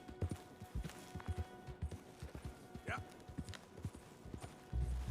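Horse hooves clopping in an even rhythm while riding in Red Dead Redemption 2, moderately close, with game ambience underneath.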